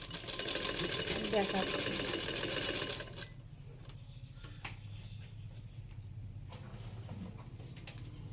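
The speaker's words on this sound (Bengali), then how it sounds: "আজকে দেখো যে ওই কাপড়টায় ওই চুড়িদারটায় সেলাই করতেছি" Sewing machine stitching a churidar, a loud continuous whir for about three seconds that then stops, followed by quieter room noise and someone speaking briefly.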